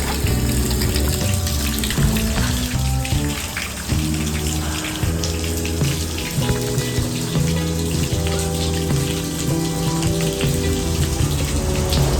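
Natural drinking water flows steadily and loudly near a roadside in Hetauda, a constant rushing gurgle with no voices.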